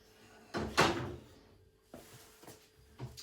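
The plastic detergent drawer of a Hotpoint washing machine slides out with a scraping thud, followed by a few quieter knocks and clicks of handling nearby.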